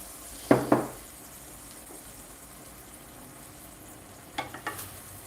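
Salmon and shrimp frying in a pan give a faint, steady sizzle. Two loud clanks of cookware come near the start and a few softer knocks near the end, with no talking.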